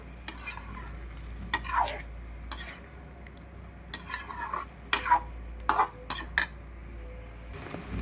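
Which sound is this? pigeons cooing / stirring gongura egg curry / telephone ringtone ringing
stirring gongura egg curry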